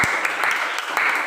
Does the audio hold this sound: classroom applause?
yes